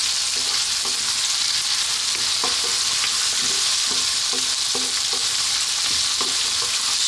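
Salted potatoes fry over high heat in a hot pan, giving a loud, continuous sizzle as a utensil stirs and scrapes them in a quick, uneven rhythm of clicks.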